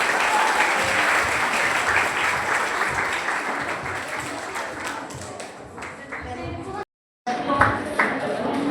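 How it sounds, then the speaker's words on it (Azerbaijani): Sustained, dense applause from an audience of children and guests at a school physics evening in Azerbaijan, loud and steady for several seconds, briefly dropping out before resuming with scattered voices. "Alqışlar uşaqlar."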